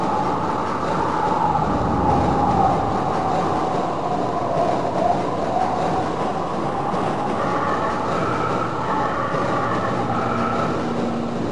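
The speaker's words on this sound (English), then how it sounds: "Do not attempt to open the doors until the train has come to a complete halt." Subway-style train pulling into a station platform in the video game Half-Life: Opposing Force, a steady loud rumble of wheels and carriage with rising and falling tonal whine, continuous throughout with no talking.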